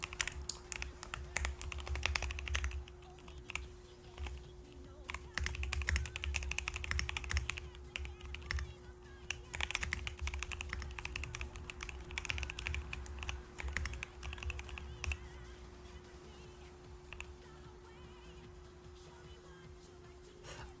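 Fast bursts of typing on a computer keyboard with irregular clacking and pauses, steady and close over a low hum, slowing toward the end.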